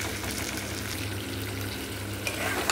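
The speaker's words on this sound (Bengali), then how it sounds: "আদা বাটা দিয়ে লো ফ্লেমে ভালো করে কষাবো" Ginger paste and potatoes frying in a pan over a low flame, giving a steady, close soft sizzle throughout with light stirring scrapes near the end.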